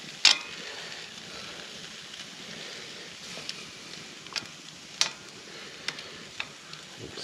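Sausages and steaks sizzle steadily in a pan over a campsite fire, a soft continuous frying hiss broken by occasional sharp pops and crackles, with no talking.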